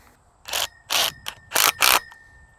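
A ratchet strap is cinched down on a vinyl fence post at grade. It gives five crisp ratcheting clicks in an uneven rhythm, close and loud.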